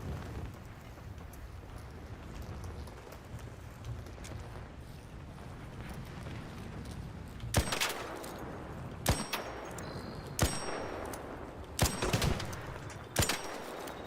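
A grenade launcher in the video game Hunt fires a series of sharp, loud blasts, roughly five spaced a second or so apart, after a stretch of steady rumbling game ambience.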